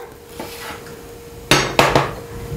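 A plate is set down with a few sharp ceramic clatters in quick succession while vegetarian radish pancakes are served in a home kitchen, with a faint steady hum underneath.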